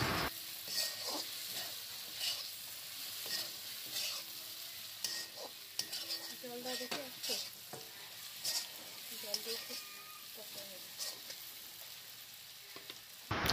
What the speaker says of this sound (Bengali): এই দেখো মশলাটা যাতে ভালো করে কষান হয়।